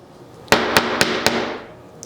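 Four sharp, evenly spaced taps of a 10-ounce hammer on glued wooden bowl segments ring out close by, each knock leaving a brief resonant tail before fading into quiet.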